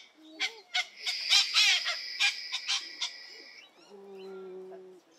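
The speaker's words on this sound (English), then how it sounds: "Even the bird's trying to wake up the baby." Several loud, harsh honking bird calls burst in an irregular series near a sleeping baby, followed by a softer, lower steady hum.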